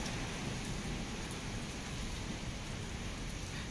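Steady, dense rain pours down during a thunderstorm at the Jagannath temple, an even broadband hiss of drops on surfaces that continues without pause, close and fairly loud.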